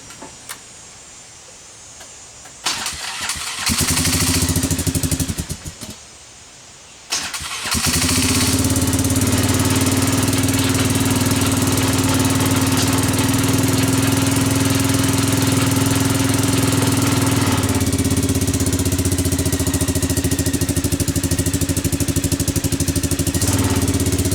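A four-wheeler ATV engine cranks in short bursts, catches and settles into a loud, steady idle that runs on close by with no talk.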